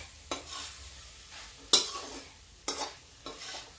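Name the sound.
turnip and pea curry frying in a pan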